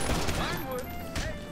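Burst of gunfire in the video game GTA V during a zombie mode, a few quick sharp shots at low level with a player's voice talking over them.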